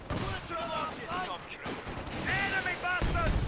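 Gunfire with sniper shots from a WWII strategy game, a steady patter of shots and blasts running through the whole stretch beneath a commentator's voice.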